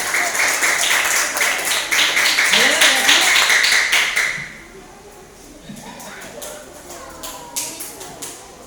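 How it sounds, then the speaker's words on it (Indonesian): Classroom applause for a student group: dense, fast clapping from many hands fills the first four seconds, then drops off to scattered claps and murmuring voices. "Tepuk tangan untuk kelompok 1."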